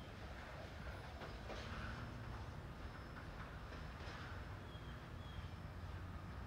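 Freight trains pulled by locomotives on a Norfolk line rumble past with a heavy low roar and rhythmic clatter of wheels on the rails, steady and fairly close throughout.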